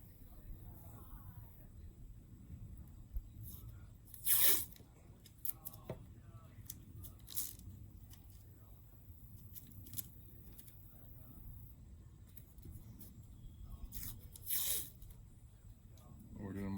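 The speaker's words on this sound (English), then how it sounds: "So the next step is to take some painter's tape." Painter's tape pulled from the roll and pressed down for marking, two sharp ripping tears and softer rustles and crinkles close by, with a person talking over parts of it.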